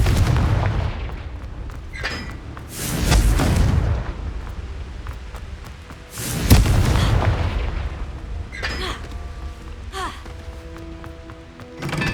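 Confringo blasting curses explode in Hogwarts Legacy, with two heavy booming blasts landing a few seconds apart over a steady rumbling background and scattered smaller crackles.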